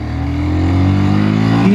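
A 2026 Bajaj Pulsar NS125 motorcycle accelerating hard on an open road stretch, its engine note rising steadily in pitch and loudness through the revs, close and loud.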